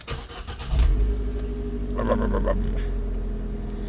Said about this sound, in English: So we'll start the car up.